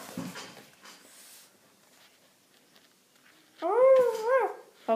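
A dog on an Italian reality show gives a loud, whining, rising-and-falling yelp-howl near the end, after a stretch of faint background chatter and rustle.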